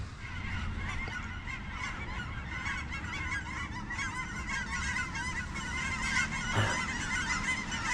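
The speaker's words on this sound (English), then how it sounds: "There's all the geese." A flock of geese honk repeatedly in a continuous, overlapping chorus, moderately loud, with no talking.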